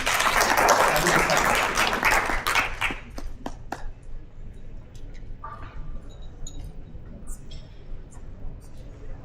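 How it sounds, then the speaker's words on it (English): An auction crowd applauds loudly for a few seconds, then the clapping thins out to scattered claps and small clinks before fading away. "Another round of applause, please."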